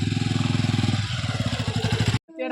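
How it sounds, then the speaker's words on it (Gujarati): A motorcycle being parked, its engine running with a steady low rumble that changes pitch partway through, then cuts off abruptly near the end as other sound follows. "અહીં આપણે બાઇક પાર્ક કરી નાખીશું।"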